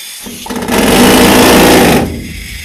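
Mining drill running inside a Colorado gold mine, a loud close mechanical rattling roar that starts up quickly, holds steady for over a second, then drops back to a lower hum.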